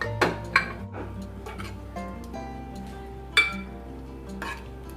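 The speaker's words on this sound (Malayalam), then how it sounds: "കുക്കറിൻ്റെ ഫ്ലെയിം ഓഫ് ആക്കിയിട്ടുണ്ട്. ഇനി ഇതൊന്ന് ഓപ്പൺ ചെയ്ത് നോക്കാം." A pressure cooker is opened while making jackfruit seed mango curry, giving a few sharp metallic clinks of the lid and utensils against the pot over a quiet kitchen background.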